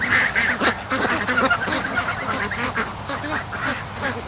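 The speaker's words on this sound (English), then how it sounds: "They're starting to sound like geese." Young geese raised alongside ducks give a steady stream of close, overlapping honks and squawks in a busy, unbroken flock chatter.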